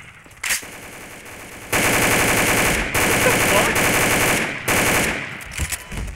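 A machine gun firing in a video game, loud sustained bursts of rapid shots with short pauses between them, close and dominant.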